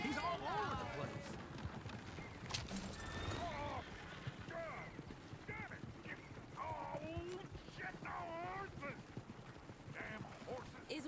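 In Red Dead Redemption 2, horse hooves clip-clop in a loose, continuous rhythm among other hoof and rattling noises, with voices talking over them.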